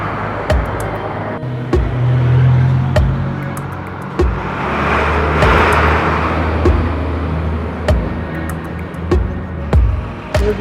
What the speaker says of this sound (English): We've got cars coming through and everything.